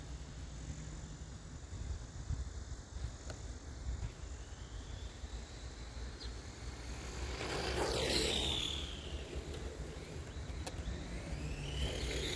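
A 1986 Bolink Eliminator 10 street stock RC drag racer running outdoors. A whining motor swells and sweeps past over steady background noise, then fades.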